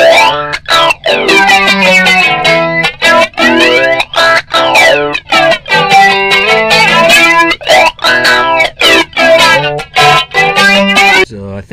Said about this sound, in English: So I think that's a phaser.